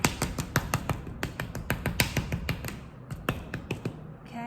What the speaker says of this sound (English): I'd like to use a paddle at this point.